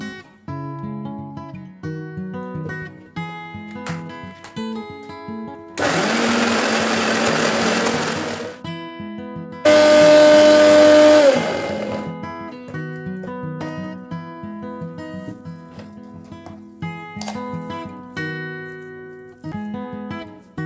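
An electric grinder runs in two loud bursts, a few seconds each, while it grinds a chicken shami kabab mixture, heard over steady background music.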